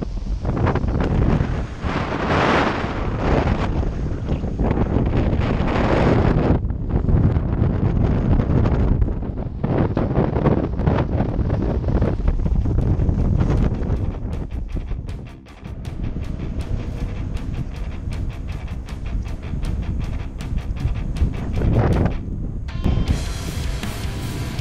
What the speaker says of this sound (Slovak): Nechcem vedieť, koľko tu fúka.